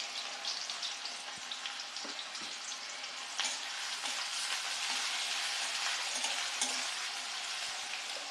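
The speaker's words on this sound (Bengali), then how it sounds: "তেল গরম হয়ে গিয়েছে, আমি দিয়ে দিচ্ছি কুচিয়ে রাখা পেঁয়াজ" Finely chopped onions fry in hot oil, giving a steady, dense sizzle that holds across the whole stretch, with a few soft stirring clicks and no voices.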